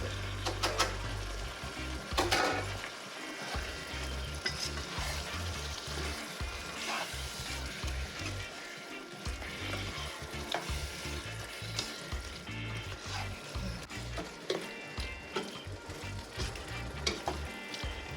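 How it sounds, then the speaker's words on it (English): Saltfish sizzles steadily in a hot pan, crackling close and loud, with occasional stirring scrapes and a low thumping rumble underneath; no one speaks. "I'm gonna place my saltfish first in there"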